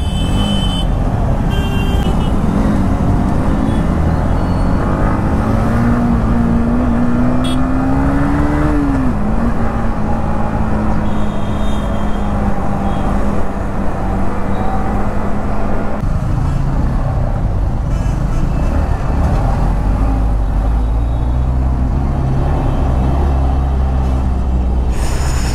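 Dense road traffic heard from a Yamaha MT15 motorcycle threading through it, with a steady engine drone, passing vehicles, a rising then held whine, and occasional horn toots, loud and continuous without speech.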